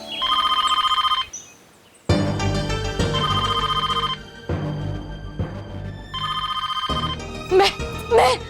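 An old-style telephone bell rings in loud, repeated bursts, alternating with dramatic music and sound effects from a TV drama scene.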